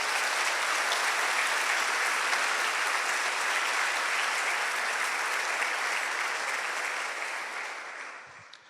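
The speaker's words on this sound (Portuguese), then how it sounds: "dá um aplauso lindo para o Senhor" A church congregation applauds during a sermon by Apostle Paulo Petrizi, a full, steady roar of clapping lasting about seven seconds before fading out at the end.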